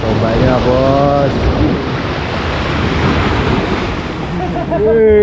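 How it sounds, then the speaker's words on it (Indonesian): At a fishing spot, strong ocean waves crash and a gusting wind buffets the microphone in a loud, continuous roar, with brief tonal voices rising over the surf at the start and end. "Keren bos, ombaknya bos."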